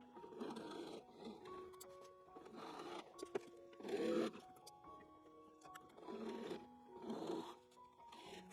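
A sewing machine stitches a facing onto a garment neckline in quiet, intermittent bursts of whirring with short pauses between runs.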